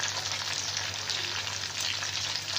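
Marinated chicken frying in a pan for a Hyderabadi chicken karahi, giving a steady, dense sizzle that holds even throughout, close by with no talking.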